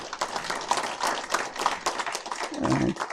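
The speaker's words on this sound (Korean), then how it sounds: "박수로 환영해 주시기 바랍니다." Brief applause at a university agreement-signing ceremony in Chungbuk, a moderate patter of clapping that carries on for about three seconds.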